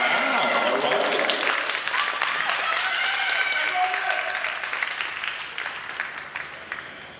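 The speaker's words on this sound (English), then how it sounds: "Please give them a round of applause." An audience in a school gym applauds seniors at a high school wrestling match, a steady, sustained burst of clapping with some cheering that slowly fades toward the end, with voices mixed in.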